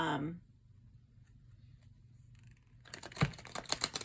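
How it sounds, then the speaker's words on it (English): A soft rustle at the start, a stretch of near silence, then a burst of rapid crisp flicking and slapping as a brand-new oracle card deck is shuffled, close by. "Let's shuffle it first, see how it sounds"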